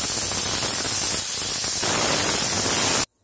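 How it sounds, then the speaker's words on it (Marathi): A pressure cooker cooking rasam rice lets off steam in a steady, loud rushing hiss that holds for about three seconds and then cuts off abruptly. "याच्या 2 ते 3 शिट्ट्या करून घ्यायच्यात आपल्याला."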